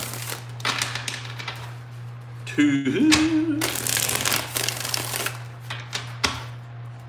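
Tarot cards are riffle-shuffled in a few quick bursts of papery flutter and snapping, close by, while people count and talk softly over a low steady hum.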